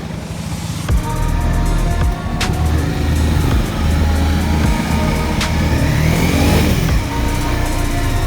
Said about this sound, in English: I was just passed by a kind of a nice Mercedes